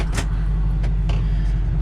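A 2007 Chevy diesel truck driving, with a steady low engine rumble and road drone that stays loud throughout, along with a few faint ticks and rattles over it and no voices.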